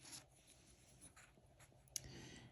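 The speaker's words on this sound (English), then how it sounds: "now I'm going to switch to my pencil again" Pencil strokes scratch quietly across paper while a mandala is drawn, a soft continuous scraping with a few brief sharper marks.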